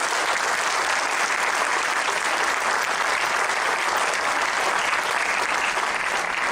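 Sustained, dense applause from a large lecture audience at a leadership lecture, steady and loud throughout with no pauses or speech.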